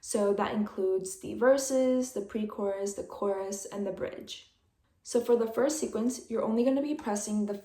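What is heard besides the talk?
None of the usual background noises is heard.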